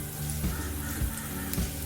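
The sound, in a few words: dried red chillies sizzling in hot oil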